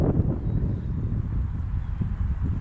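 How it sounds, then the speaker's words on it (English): Wind gusting outdoors by the water buffets the microphone with a low, steady rumbling roar, close and fairly loud, with no voices. "the wind just picked up"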